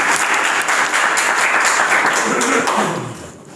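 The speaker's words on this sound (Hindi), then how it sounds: "भरपूर ताली से इस्तकबाल कीजिए जनाब मुशर्रफ साहब।" An audience at a school mushaira claps warmly to welcome Prof. Musharraf, a dense, loud wash of applause that holds steady and then fades toward the end.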